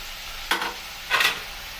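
Pork and chopped bell pepper are stirred in a frying pan over a soft sizzle, with two short scraping strokes of the spoon about half a second apart.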